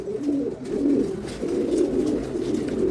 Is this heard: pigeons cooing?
yes